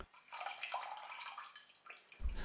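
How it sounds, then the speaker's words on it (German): Milk poured from a one-litre carton into a bowl and then into a cooking pot, heard as a steady liquid stream and splash, close and moderately loud, with a low thump near the end. "von einem Liter Milch ein bisschen in eine Schale geben und den Rest in den Kochtopf"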